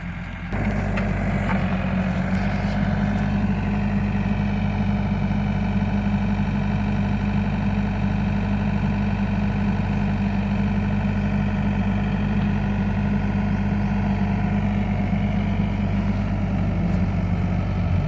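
A Hyundai 55-7 mini excavator's diesel engine runs loudly and steadily at close range, a continuous rumbling drone with no pauses, the machine not moving because of stuck brakes.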